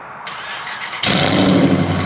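A 1000 hp Dodge Hellcat engine starting up: a brief crank, then the engine catches with a loud burst and settles into a heavy, rumbling idle, close by with no talk over it.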